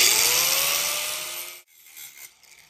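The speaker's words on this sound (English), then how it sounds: "I'm just going to use my cutoff wheel real quick and then just slice that up" A cutoff wheel slices through metal on a Ford F1/F100 steering column part, a loud, harsh grinding whine that gradually drops in pitch, then cuts off abruptly and leaves quiet handling noise.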